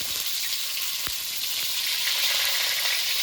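Salted pointed gourd (potol) pieces fry in a pan with a constant bright sizzle, broken by a couple of brief scraping knocks as they are stirred; no talking.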